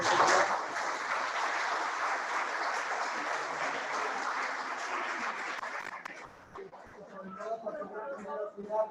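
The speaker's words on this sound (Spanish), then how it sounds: "primero un fuerte aplauso a Noemí por su exposición" Audience applause for illustrator Noemí Villamuza after her talk: dense, steady clapping fills the first six seconds, then fades out as a voice begins speaking.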